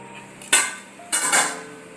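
A metal kadai pan gives two sharp clinks about half a second apart, close and clear over a quiet background, during quail frying.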